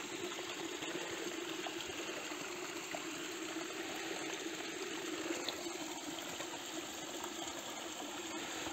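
Cold snowmelt water flows steadily on a mountainside, a continuous broadband rushing close by with no pauses or voices.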